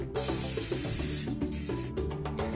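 An instant-tan spray mist hisses out in two strong bursts, a long one and then a shorter one, over steady music playing underneath.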